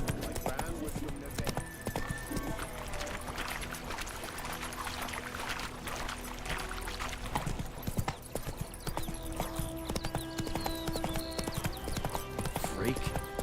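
Roach the horse gallops in The Witcher 3 with a fast, steady clip-clop of hooves, heard under game music and other sounds.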